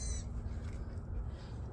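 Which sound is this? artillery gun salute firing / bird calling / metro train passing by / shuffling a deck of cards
bird calling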